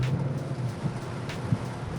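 Steady rain falls in a broad, even wash of noise on an autumn day, with a low rumble of a vehicle underneath and no voices.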